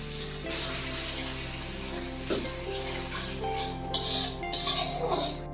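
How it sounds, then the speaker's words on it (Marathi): Paneer chilli with vegetables is stir-fried in a pan over a high flame: a steady sizzle with scraping, clicking strokes of a spatula that grow busier toward the end. "हे सगळं आपण हाय फ्लेमवर परतलंय"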